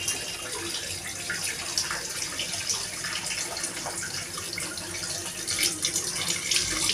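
Tap water runs steadily into a sink as fresh prawns are washed, making a continuous close, bright splashing hiss with no talking.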